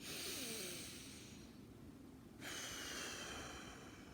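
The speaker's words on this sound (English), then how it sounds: "Take 3 deep breaths, taking in through the nose, out through the mouth." Slow, deep breaths drawn in through the nose and let out through the mouth, heard close as steady airy rushes with a brief pause between them.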